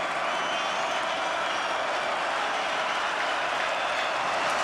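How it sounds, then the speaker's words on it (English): Stadium crowd at a college football game between Western Kentucky and Boston College, roaring steadily as fans stand for a third down, a broad continuous wall of noise with no break. "This crowd is on their feet for this 3rd down."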